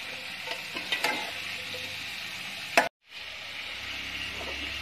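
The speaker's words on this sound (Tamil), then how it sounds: "கொஞ்சம் நம்ம நல்லா வதக்கி விட்டுக்கலாம்." Vegetables for aviyal are sautéed in a pan, giving a soft, steady sizzle with light stirring scrapes and a few clinks, interrupted by a brief silent gap partway through.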